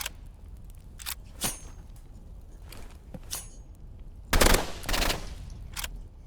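Burst rifle gunfire in the Roblox-style shooter Rivals, several sharp short bursts of shots spaced a second or so apart, one louder cluster midway, against a quiet game background.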